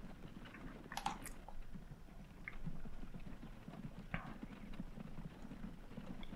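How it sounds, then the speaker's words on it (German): Horse-drawn carriage in Transport Fever 2 with steady, quiet clip-clopping hooves in an even rhythm, plus a few sharp clicks, faint and alone. "Das ist unsere Kutsche."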